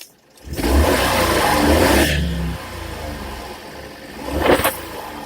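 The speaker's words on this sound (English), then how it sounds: "Let me rev it up here." A 1992 Honda Acty Van SDX engine revving up from a short quiet start, holding a loud mid-pitched roar, then dropping back toward idle before a second brief rev near the end.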